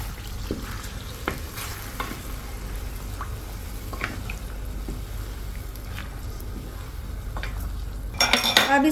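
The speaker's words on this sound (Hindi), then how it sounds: "तो अब मैं इसमें मिलाऊंगी 1 कप पानी।" A cup of water goes into a pot of Mughlai chicken handi whose masala has cooked until the oil separates. Close metallic clinks and stirring scrape over a steady sizzle, ending in a loud hissing surge as the water hits the hot pan.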